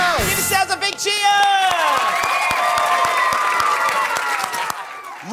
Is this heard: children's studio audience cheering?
yes